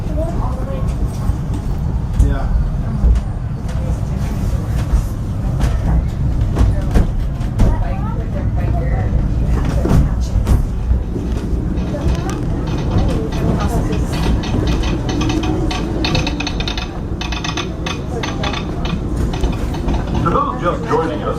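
The Disneyland Railroad train rolls steadily along its track, a loud continuous rumble with rhythmic wheel clatter heard from on board, with a voice speaking over it throughout.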